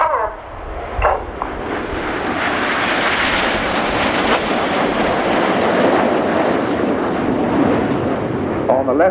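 Royal Air Force Red Arrows display jets roar overhead in a close line-abreast formation at an air show, a loud continuous broadband rush swelling and sustained throughout, with a commentator's voice talking over it.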